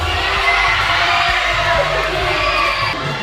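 A school crowd at a United Nations Week pageant shouts and cheers loudly for their favourite contestant in a dense, continuous roar of mixed voices, including children's yells.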